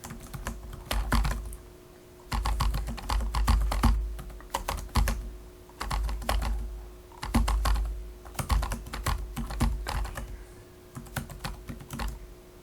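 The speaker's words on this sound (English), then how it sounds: "you're going to start typing the second paragraph" Bursts of rapid keyboard typing, close and clear, separated by short pauses, with a faint steady hum underneath.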